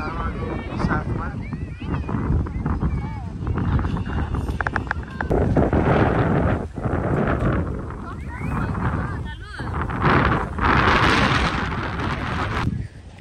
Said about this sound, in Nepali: चिसो हावा साथमा